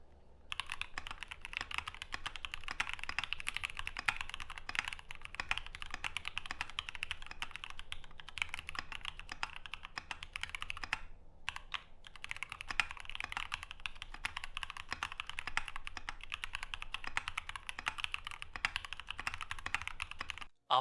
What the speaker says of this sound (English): The PE foam mod actually reduces the space between the switch and the PCB and results in less reverberation when the switch is actuated.